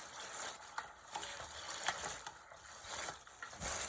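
Fried paneer simmering in cooked tomato gravy in a pan, a soft steady sizzle with light bubbling, and a spoon gives occasional faint stirring scrapes and clicks.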